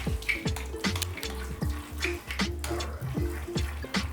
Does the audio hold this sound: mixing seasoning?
yes